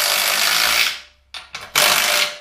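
A powered wrench cranks down a bolt on a transfer case brace fitted to a 6L90e transmission in a 1988 Suburban LS swap, loud and close, sounding one long burst, two short stutters, then another sustained run.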